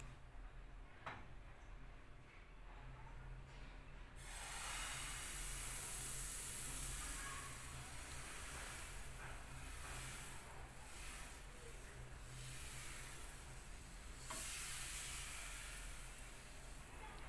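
Thin, runny crepe batter poured into an already hot pan for sausage cinnamon crepes, a steady broadband sizzle and hiss rising after a few seconds and holding near and fairly loud, with a faint tick or two, no talking.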